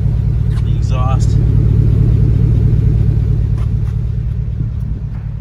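A 2009 Hummer H2 SUV with the Luxury Adventure Package idles with its exhaust running, giving a steady, loud, low rumble that continues without a break. A brief voice is heard near the start.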